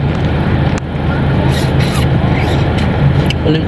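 Engine noise of a motorcycle going by on a street in the Philippines, a steady roar with some rising and falling, close, with background chatter.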